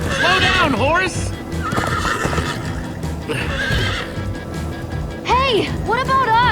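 In Minecraft Story Mode, a horse lets out several loud, close whinnies with galloping hooves running beneath and game dialogue mixed in.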